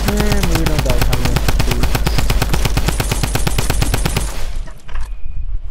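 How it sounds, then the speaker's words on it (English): A Tommy gun in Fortnite fires a long sustained burst of rapid, evenly spaced shots, loud and close, then cuts off into near quiet. "You can just use like a Tommy gun to shoot down all the walls."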